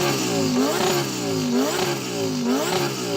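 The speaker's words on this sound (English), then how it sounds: "what we'll do before we race is to rev up our engine" A Lamborghini Huracan with a twin-turbo 5.2-litre V10 revs loudly three times in quick succession, each rise and fall close to the microphone, with no talk over it.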